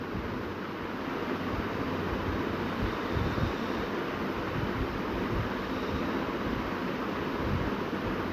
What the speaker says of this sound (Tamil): தண்ணி வந்து 1க்கு 2ன்னு அளந்து ஊற்றிக்கலாம்